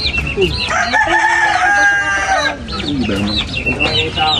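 A rooster crows loudly nearby while hens cluck all around, a busy farmyard chorus with overlapping calls.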